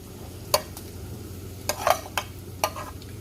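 Boiled shredded chicken is stirred into capsicum and carrot in a pan with a low sizzle, and a spoon clatters sharply against the pan about five times at uneven intervals; no one speaks.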